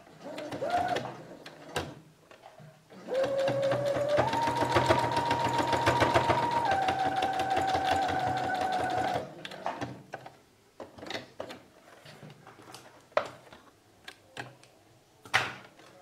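A sewing machine stitches a dish towel trimmed with bias binding and broderie anglaise, running in a steady whirring burst of several seconds, then stopping for scattered clicks and handling noises, close and alone without talk.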